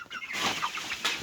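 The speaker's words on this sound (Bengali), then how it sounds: "এগুলো হলো টাইগার মুরগি।" Short soft clucks from a group of chickens, including tiger hens among broilers, sound close and fairly quiet, a few overlapping calls within a second.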